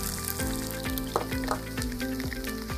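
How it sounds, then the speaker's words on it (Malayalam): Mustard seeds crackling and popping in hot oil in a pan, a dense steady sizzle with rapid pops and a low background hum, close and loud, no speech. "ഇതങ്ങനെ എണ്ണ ചൂടായിട്ടുണ്ട്. കടുകാണ് ആദ്യം ഇടുന്നത്."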